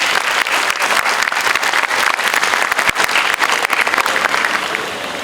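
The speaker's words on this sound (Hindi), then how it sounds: "जोरदार तालियां।" Loud, dense applause from a large audience at a college orientation day, sustained and even throughout with sharp individual claps standing out, no voices on top.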